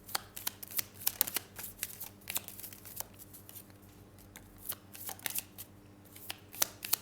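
Tarot cards are shuffled close by in quick, uneven bursts of crisp riffling and flicking, soft but distinct, with no talking.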